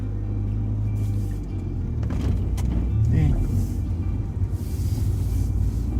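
Manual car pulling away in first gear as the clutch bites, a steady low engine rumble from inside the cabin that swells slightly as it moves off, with faint voices.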